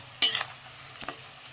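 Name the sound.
stirring fried tuna pickle with turmeric in a pan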